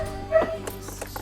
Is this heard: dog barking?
yes